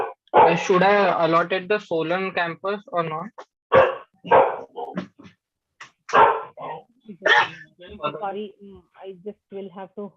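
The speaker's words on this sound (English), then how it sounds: "So sorry for my dog barking in." A pet dog barks and yips at home during an online counselling call, its sharp bursts mixed in with near, continuous talking.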